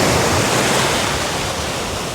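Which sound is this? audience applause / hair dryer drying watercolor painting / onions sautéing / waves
waves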